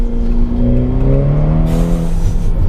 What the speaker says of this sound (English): So we're in second now, third, fourth, and you're compelled again to shift back down, and now we're into second.